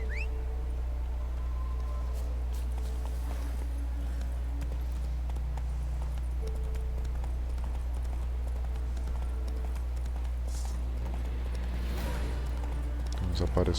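Hooves of the horse Roach clip-clopping in The Witcher 3 video game, a steady rhythmic stepping under a constant low engine-like hum and game ambience throughout.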